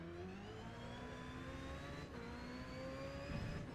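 A race car engine in Gran Turismo 7 revs steadily, its whining tone climbing through the gears with a brief dip at a shift, playing at a low, even level.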